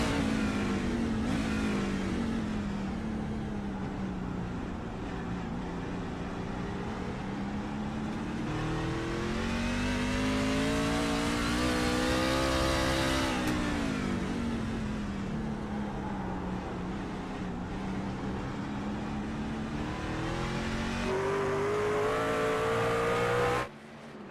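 A race car engine screams through sustained high revs and gear changes while lapping the Daytona road course in a racing simulator, loud and continuous, pitch rising and falling with each corner.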